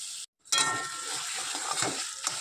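Food with turmeric and salt stir-fries in a pan, sizzling loudly and close after a brief silent gap, with scraping stirs and light clinks of the spatula against the pan.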